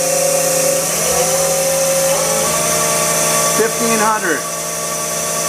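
The spindle of a Haas ST-10Y CNC turning center with live milling hums with a steady whine at speed, then rises in pitch as it accelerates, while a voice speaks over it.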